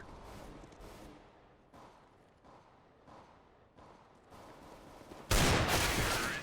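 Shooter game gunfire: a rapid series of quick, crisp shots in short bursts at moderate distance, ending with a much louder close burst of fire.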